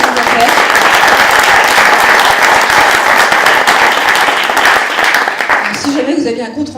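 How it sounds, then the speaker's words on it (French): A conference audience applauds at an innovation talk. Dense, close clapping stays strong for about six seconds, then quickly thins out to a few scattered claps. "je termine avec Magali, qu'on va applaudir également"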